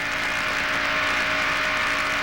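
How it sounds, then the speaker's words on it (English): Stock cars racing at Talladega in 1992 as a lead pack of five breaks away, a loud, continuous engine roar with a steady high-pitched whine sustained throughout and no talking. "Right now, there are 5 cars that are trying to break away"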